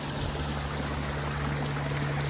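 Water spills over rocks in a small backyard pond waterfall, a steady, close, continuous rushing splash with a faint low hum beneath and no talking.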